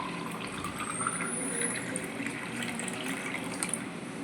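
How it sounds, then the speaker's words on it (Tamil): Freshly blended amla juice pours into a glass in a steady, close liquid trickle with light splashing and a faint rising ring as the glass fills, continuous throughout with no voices. "இப்போ இது கிளாஸில் ஊற்றிக்கலாம்."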